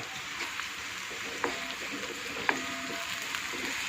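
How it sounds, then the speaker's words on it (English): Onions sautéing in a pan on a tawa over medium flame, a steady close sizzle with a couple of faint scraping stirs and no voices. "The onions have been sauteed well."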